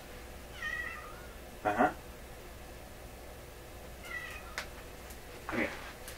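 A house cat meows several times indoors, short, fairly clear calls spread across a quiet room, with a brief spoken reply from a person between them.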